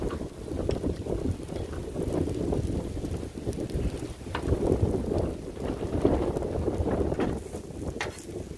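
Wind gusts blow outdoors beside a griddle where fried rice with chicken and smoked sausage is cooking, a rough, steady roar of wind buffeting the microphone that swells and eases for several seconds, with no voices.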